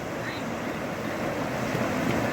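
Fast-flowing Narmada River water rushing around a rocky midstream island, a steady broadband roar mixed with some wind, heard alone and fairly loud.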